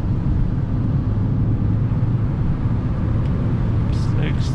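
Fiat 500 1.2 petrol engine accelerating in fourth gear, a steady loud drone heard from inside the small car, with a faint voice at the end.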